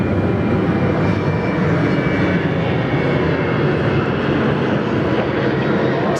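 An airliner takes off from runway 34 right at Sydney Airport, its engines a loud, continuous, broadband roar that holds steady throughout with no voices.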